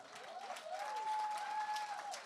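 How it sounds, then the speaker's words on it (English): Gala audience applauding a honoree, faint and distant clapping spread through a large room, with a steady ringing tone held over it for most of the stretch. "Yes, give her applause for that alone."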